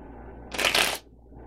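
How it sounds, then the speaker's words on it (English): Tarot cards riffle-shuffled in one brisk burst of about half a second, a dense papery flutter close to the listener, then quiet room hiss. "Let me give these a good shuffle again."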